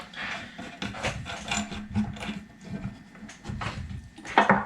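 A lock washer and nut are tightened by hand onto a 1990 DSM car shifter assembly, producing close, irregular metallic ratcheting and scraping clicks in short bursts, with no speech.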